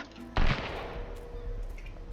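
A single loud, sharp gunshot from a firearm in the survival game Sunkenland, a sudden blast followed by a decaying rumble and a faint game soundscape.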